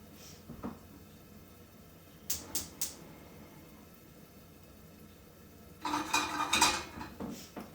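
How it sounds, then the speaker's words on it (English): Pots and pans being set on a home stove while cooking a plant-based Moroccan tagine, a few sharp metallic clanks early, then a louder cluster of dish and cutlery clatter near the end, fairly faint overall. "Okay, so I'm gonna put these on the stove."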